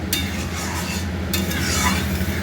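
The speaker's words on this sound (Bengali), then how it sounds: "এবার আমি আমার যতটা ঝোল লাগবে সেই বুঝে আমি জল দিয়ে দিলাম" Water goes into a hot pan of cooking vegetables, bringing a sharp hissing burst near the start and another about halfway through over a continuous close sizzle and bubbling.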